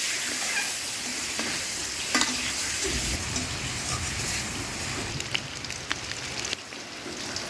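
An egg fries in oil on a clay stove, giving a dense crackling sizzle that grows louder and busier partway through, with occasional sharp spatters and utensil taps close by.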